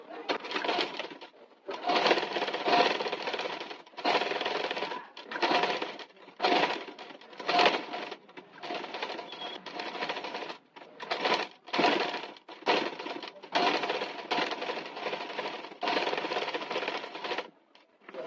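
A sewing machine stitches patchwork on a blouse, whirring in short bursts of a second or two separated by brief pauses, close and fairly quiet.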